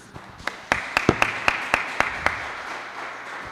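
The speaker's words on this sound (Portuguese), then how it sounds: "As palmas louvam ao Senhor, irmãos" Hands clap in praise at a live church service, a sparse series of distinct claps in a loose rhythm, about a dozen sharp strikes that fade out after a couple of seconds into quiet room tone.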